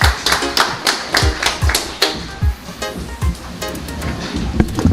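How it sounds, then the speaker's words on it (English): Outdoor crowd applause at an evening political rally in Sangre Grande, Trinidad. It comes as loose, uneven bursts of close hand claps over a dull background rumble. "Please give them a round of applause."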